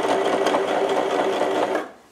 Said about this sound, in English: And I don't have a fancy dancy sewing machine, which is fine.